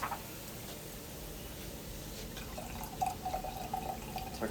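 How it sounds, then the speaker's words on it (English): Wine is poured into a glass in a brief, faint liquid trickle with a few light splashes, close by in a quiet room. "Just gonna pour some more wine here."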